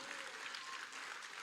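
Brief, faint applause from a church congregation during a theology symposium, a soft wash of clapping heard at a distance for just over a second.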